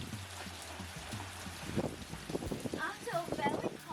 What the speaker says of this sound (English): Got sideways rain, huh?